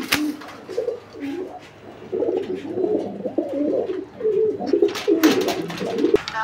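A female pigeon at a pigeon sale coos in soft, throaty, repeated phrases close by, with a quiet background and a few sharp clicks near the end.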